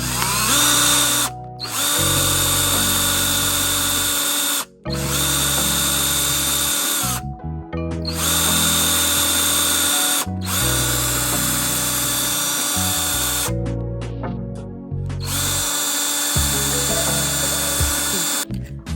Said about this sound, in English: When you're drilling, you want to make sure that your whatever you're using to get that hole is smaller than your screw